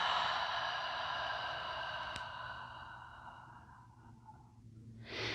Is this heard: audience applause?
no